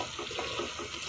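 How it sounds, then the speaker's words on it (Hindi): Water poured in a steady stream into a pot of homemade chicken shorba, a thin desi curry. A continuous close splashing gush runs alone for about a second, with no voices. "इसलिए मैं इसमें और पानी ऐड करूँगी।"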